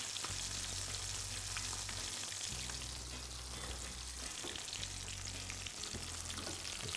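Food frying and crisping in a pan, a steady, close sizzle with faint intermittent stirring noises and a low hum coming and going underneath.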